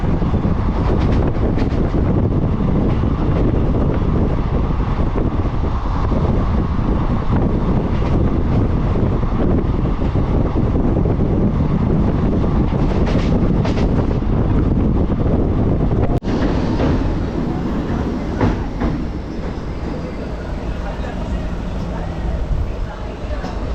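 A new DEMU passenger train runs from New Jalpaiguri toward Haldibari near Belakoba station, past tea gardens. A steady, loud rolling rumble with wind-like rush fills the cabin throughout, its tone shifting slightly partway through.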